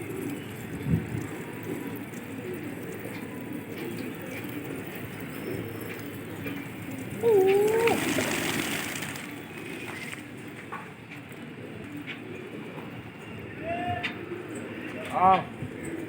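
Pigeons coo softly in a loft during a pigeon-fighting gathering, low throaty calls over a muffled background, with someone talking nearby.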